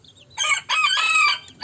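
Chickens in a coop during a morning check, with a loud, close rooster-like crow and clucking in two strong bursts, heard alone without speech.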